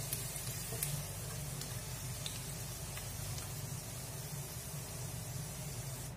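Chicken fries in a pan, giving a steady, even hiss of sizzling with a few faint pops, constant from start to finish.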